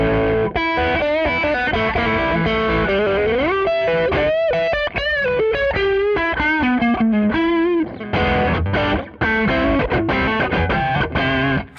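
An electric guitar overdriven through a Tube Screamer TS-10 pedal plays a lead line, its warm distorted tone sustaining through bends and quick runs, loud and up front.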